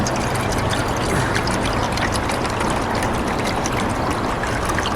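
Water pours steadily into a pot for boiling tea at a winter tarp camp by an urban creek, a loud, close, continuous gushing stream with no break.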